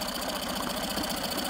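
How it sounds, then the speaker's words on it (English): Yamaha 6/8 hp outboard motor converted with a 9.9 hp carburetor idling, a steady close mechanical putter with a slight ripple in the idle speed, continuous and alone. "I don't know if that's the engine having a little variation in the RPM idle"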